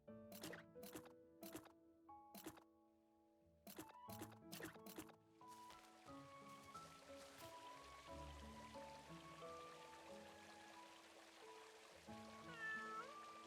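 Repeated cartoonish cat meows from the video game Little Witch in the Woods come in short bursts early on, then give way to layered game music and soft ambient sounds.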